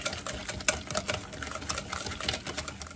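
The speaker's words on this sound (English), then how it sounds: "my pepper, celery, and onions. Give that a whisk." Quick whisking of chopped pepper, celery and onions in a bowl for potato salad, a busy stream of rapid light scraping and clicking strokes, close and steady, with no talking.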